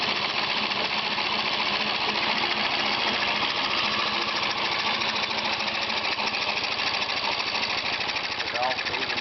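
A go-kart engine driven by compressed air runs continuously at close range with a loud, rapid mechanical clatter that speeds up and slows down as the throttle changes, and its pressure gradually drops.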